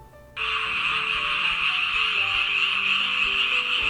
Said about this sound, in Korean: 집집마다 개구리 소리가 들려옵니다.